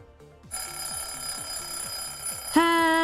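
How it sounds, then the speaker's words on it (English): A hydration reminder timer alarm rings with a steady, bright, bell-like electronic trill that starts abruptly and rises to a louder, shifted tone near the end, heard over soft repeating background music. "that is the next hydrate timer"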